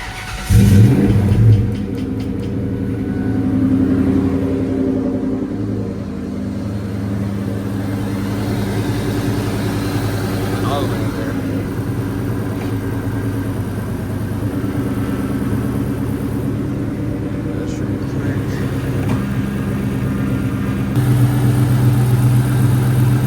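A 1999 Mustang SVT Cobra starts with a loud burst from its engine, then settles into a rough, steady idle up close that rises slightly in the last few seconds.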